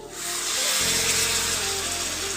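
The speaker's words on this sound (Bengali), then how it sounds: "এবার আমি এতে অ্যাড করব এই যে গরম জল" Hot water poured into a hot pan of fried potato and capsicum, a loud, steady hiss and rush of steam that swells within the first second and carries on evenly to the end, with no voices.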